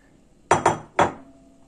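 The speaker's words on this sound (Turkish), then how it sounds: "Tenceremizin içerisine, yani düdüklümüze alıyorum." Washed soup ingredients dropped into a metal pressure cooker pot: three sharp clanking knocks, two in quick succession then a third after a short pause, close and bright against a quiet kitchen.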